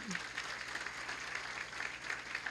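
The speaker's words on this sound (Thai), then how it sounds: "วันนี้ขอให้ท่านปรบมือดาให้กับอัพไลน์ของทุกท่านอีกครั้งนึงครับ" Seminar attendees at a Giffarine business talk clap for their uplines, a faint, steady spatter of applause from a room-sized crowd with a low hum underneath.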